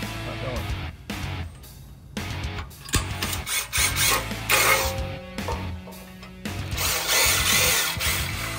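A power drill bores holes for the taillights of a custom cooler carrier trailer, with several close, loud bursts of whining and grinding separated by short pauses and handling noise.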